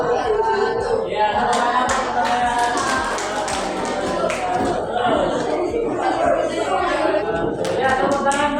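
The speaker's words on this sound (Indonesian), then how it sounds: "tepuk tangan untuk kalian semua" A class of students applauds together in a room, a steady patter of many hands clapping close by for several seconds with some chatter mixed in.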